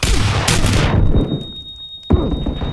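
Gunfire in the battle-royale game PUBG, two loud close bursts with a quieter gap between them.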